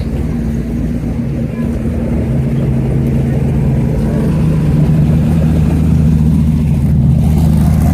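A Ford GT40 Heritage Edition on Firestone tires rumbles loudly and steadily close by, its deep engine drone swelling slightly as it moves, with people talking faintly underneath.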